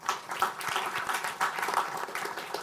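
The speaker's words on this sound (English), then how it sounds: "Let's give him a round of applause." Steady applause from an audience, many hands clapping together at a fairly even level for the whole stretch, with no talking.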